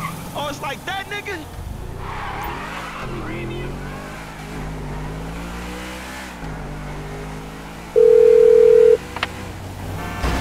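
In Grand Theft Auto V, a phone call plays over a car's speakerphone, with voices talking above a steady engine hum and a sustained electronic tone sounding briefly near the end.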